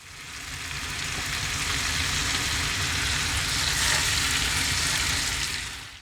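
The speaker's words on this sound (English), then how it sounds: "Now that our butter's all melted, we can start transferring the bread into the pan." Bread slices laid into melted butter in a camping pan hiss in a loud, continuous sizzle that holds steady throughout and fades slightly at the end.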